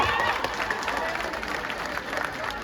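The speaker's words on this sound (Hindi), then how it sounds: "भैया का जोरदार तालियों के साथ आप स्वागत करिए" Loud, dense applause from a political rally crowd welcoming a speaker, continuous clapping with crowd noise throughout.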